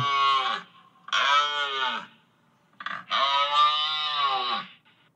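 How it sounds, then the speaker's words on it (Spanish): A moose call resembling an angry cow: two long, loud, nasal bellowing moos with a short pause between, separated by near silence and heard alone. "El, llamado del alce."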